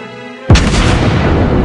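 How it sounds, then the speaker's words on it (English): A naval gun fires at an enemy ship in World of Warships Blitz, one sudden loud boom that rolls into a long, dense rumbling tail after a quieter game-music bed. "Tap the fire button to shoot."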